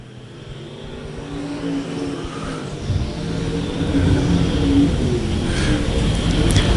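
Modified, stock and late model cars race in an A main feature, their engines building into a loud, continuous roar that grows steadily as the pack nears.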